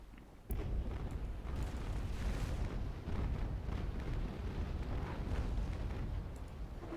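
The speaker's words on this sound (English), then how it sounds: "Fortunately, Goodblue's able to get a nice broadside on them." Naval Action sailing-ship cannons firing a broadside in a game battle, a sudden loud onset followed by a sustained, dense rumble of overlapping booms that rolls on at steady volume without talk.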